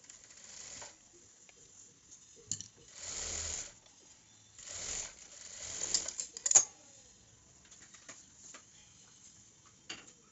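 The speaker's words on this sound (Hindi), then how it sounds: "तो अब हम यहाँ पे किनारे पे सिलाई लगाएंगे।" A sewing machine stitches along the edge of a blouse in short bursts, its quiet ticking runs separated by pauses, faint and close, with no talk.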